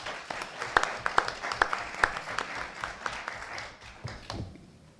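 Scattered clapping from a small audience at a citywide candidates' forum in Long Beach, a few sharp distinct claps standing out over a thin patter that fades toward the end, with faint room noise beneath.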